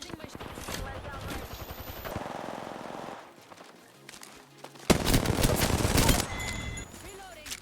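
Rapid gunfire bursts from an Apex Legends match, with loud automatic fire, a brief quieter lull, then another heavy volley, with a player talking over the game sounds.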